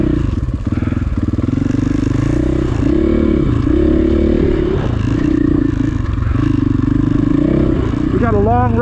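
A dirt bike engine drones and revs steadily on a Table Mountain trail in Washington State, with a loud continuous motor note and pitch swells, heard under spoken talk.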